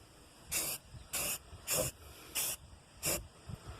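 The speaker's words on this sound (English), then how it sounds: "here we go with the Rust-Oleum Rust Reformer. You want to do short strokes" Rust-Oleum Rust Reformer spray paint hisses out in five short, evenly spaced bursts, close and crisp, with quiet pauses between each stroke.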